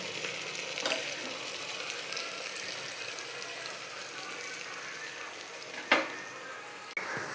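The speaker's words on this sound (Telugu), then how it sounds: "అల్లం వెల్లుల్లి పేస్ట్ వేస్తున్నాను." Ginger garlic paste fries in hot oil with a soft, steady sizzle and crackle at low volume, broken by a couple of brief clinks.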